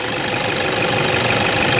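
A 2011 Toyota Hilux 3.0-liter inline-four D-4D diesel engine idles with a steady, close, rough clatter.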